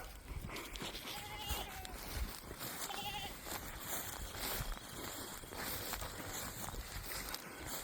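Goats bleat several times against steady outdoor background noise, with short wavering calls at moderate distance.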